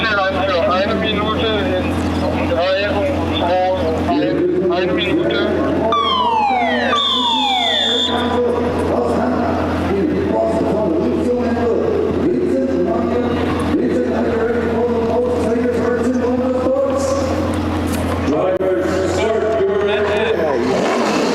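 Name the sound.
NASCAR Euro Series race car engines firing on the grid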